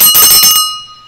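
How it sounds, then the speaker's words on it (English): A small hand bell rings several quick times up close, loud and bright, then its tone decays into a lingering metallic ring. "We ring a bell when someone's here for the very first time"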